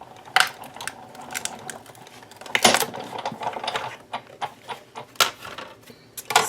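A die cutting machine feeds cutouts through with irregular clicks and clacks, some louder taps standing out over a steady low mechanical hum, close and fairly loud.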